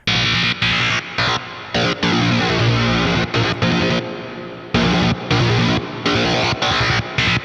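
Heavily distorted stereo synth lines for a metalcore track, gritty and buzzing with chorus-like width, played in choppy stop-start bursts with sharp gaps, loud and dense throughout.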